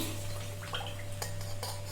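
Water poured into a pot of rice while making tamarind rice, a steady splashing pour with light clinks of a metal vessel, close and fairly quiet, no talking.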